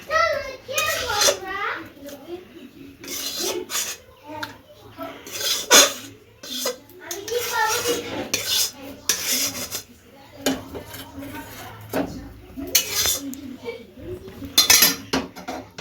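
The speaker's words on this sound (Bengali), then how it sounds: "এখানে শাকটা নামাচ্ছে আমার দিদা।" A grandmother lifts cooked greens off a pan, with utensils scraping and clinking against cookware in short repeated bursts under frequent nearby talk, including a voice.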